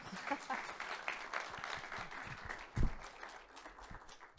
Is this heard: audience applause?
yes